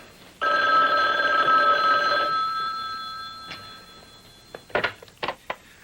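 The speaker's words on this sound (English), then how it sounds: "I'll get the phone, Captain." A telephone rings loudly in an indoor office setting, one long sustained electronic ring that fades out, followed by a few sharp clicks and knocks as the handset is handled.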